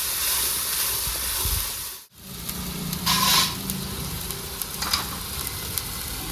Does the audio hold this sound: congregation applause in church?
no